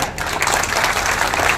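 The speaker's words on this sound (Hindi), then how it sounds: "ये राजस्थान का, इसके लिए ताली बजाओ।" A crowd at a Rajput community gathering in Rajasthan claps loudly for the Chauhan community in a brief, dense burst of applause with no speech over it.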